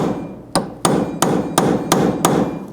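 Six evenly spaced sharp metallic hammer blows strike a punch, peening over the rear hub nut on a 2007-11 Honda CR-V, loud and close with short ringing decays between hits.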